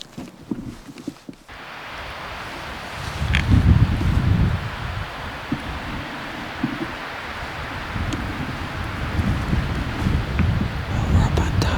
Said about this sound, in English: Heading up the mountain in a vicious windstorm.